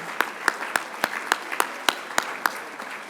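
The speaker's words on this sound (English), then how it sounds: "A round of applause for all of them." Sparse, distinct claps ring out at a steady rhythm, about one every quarter second, moderately loud against a quiet room.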